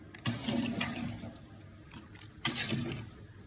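Water poured into a cooking pot while making an Arab-style saluna curry: two splashing pours, each a sudden gush that trails off into trickling, fairly close and without talk.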